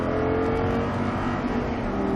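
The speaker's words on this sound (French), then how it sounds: "on accélère un peu plus et vas-y à fond" An Audi R8 on the Mettet circuit during a driving course, its engine droning loud and steady as it accelerates at full throttle, close and continuous without any talk.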